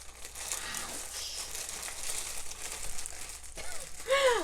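A Fashion Nova mailer package is torn open, with crinkling plastic and rough ripping close by. A brief voice sound comes near the end.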